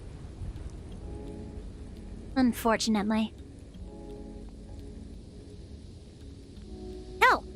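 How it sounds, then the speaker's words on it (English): Steady rain ambience in a VRChat world, a video game, forms a constant soft hiss under the whole stretch while a person talks and reacts over it. "I don't think this world gave us a toggle for the rain sounds and such."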